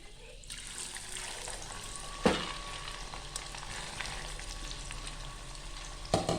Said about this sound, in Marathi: आता आपण दुसरी तळायला टाकूया